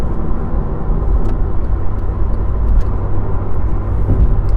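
A car cruising steadily along a UK smart motorway, a loud constant low road and engine rumble heard from inside the cabin with no talk.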